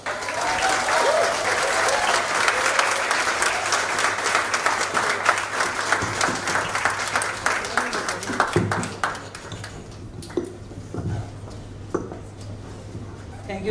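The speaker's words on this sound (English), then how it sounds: "Can you give him another round of applause, please?" Sustained audience applause at a graduates' reception for special needs students, dense clapping from a crowd that thins out toward the end.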